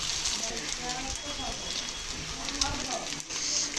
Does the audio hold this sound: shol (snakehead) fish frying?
yes